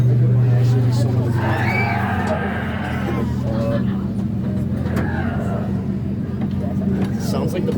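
An amusement park train ride at Waldameer in Pennsylvania rumbles like a bus, a loud steady engine drone close by with people talking over it.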